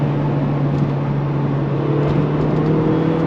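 Toyota MR2 Mk3 sports car engine heard from on board as a loud, steady engine drone with road and wind roar, holding an even pitch throughout with no clear rev peaks.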